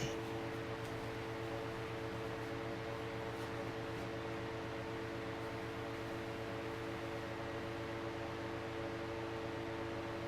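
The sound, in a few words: Holmes box fan running, blowing air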